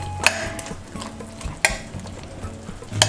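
Mushrooms sizzle in a pan while a utensil stirs them, sharp scraping clacks landing at irregular intervals over a soft frying hiss, close and fairly loud.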